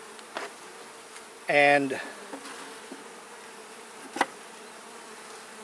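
Honeybees during an inspection of two new beehives. A faint hum sits under one short, loud, close buzz, and a single spoken word and light handling clicks are heard.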